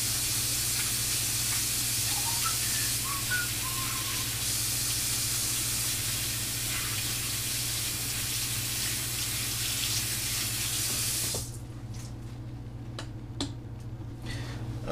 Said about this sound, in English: First things first, as always, we'll scrub up.